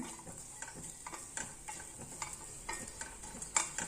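Spoon stirring coconut rice mixture in a pan, a run of soft scraping strokes at a steady rhythm over a light sizzle, close and fairly quiet.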